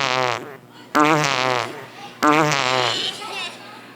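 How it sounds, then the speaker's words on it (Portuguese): A giant cartoon fart from the wolf in a storybook retelling of the three little pigs, rendered as a voiced, drawn-out blast, repeated in two long, loud bursts with a shorter one before them. "O lobo solta um pum gigante, mas a casa nem treme."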